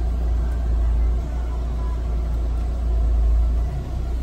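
Car engine idling with the air conditioning switched on, a steady low hum whose revs lift slightly and then settle, with no clear compressor click.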